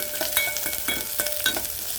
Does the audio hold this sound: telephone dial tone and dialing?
no